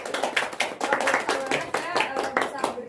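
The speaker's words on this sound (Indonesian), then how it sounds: "kita boleh tepuk tangan dulu nih ya" Scattered clapping from a small group comes in uneven bursts, with a voice speaking over it.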